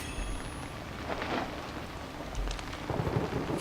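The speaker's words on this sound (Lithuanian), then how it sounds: "kaip nemėgstu griaustinių" Steady rain with rumbling thunder in the horror video game Outlast, a continuous wash of rainfall under low rolling thunder that swells toward the end.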